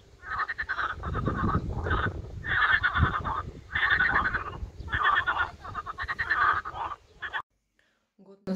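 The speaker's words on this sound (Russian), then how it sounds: "Лягушки поют." Frogs croak outdoors in a warm evening chorus, with repeated bursts of rasping calls coming in steady pulses from fairly close by, followed by a brief silence at the end.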